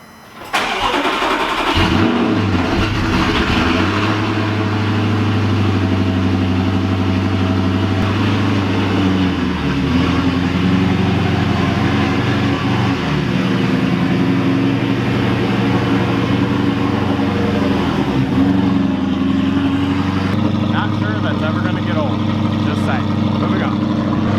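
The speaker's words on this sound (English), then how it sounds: "let's get a cold start" A car engine cold-starting with a sharp crank and catch, then settling into a loud, steady high idle with occasional revs, close up and continuous, with a person talking over it.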